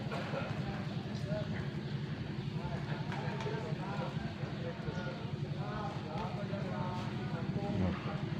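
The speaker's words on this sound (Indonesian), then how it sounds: "Jadi ini ada dua kuda ya, ada Panglima Nanggro," Two racehorses trotting on a racetrack during a morning training session in Takengon, Aceh Tengah, with steady clip-clop hoofbeats under continuous talking from a nearby man.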